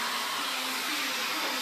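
A vacuum cleaner runs steadily on chair upholstery, a loud, constant whining roar with airy hiss and no voices over it.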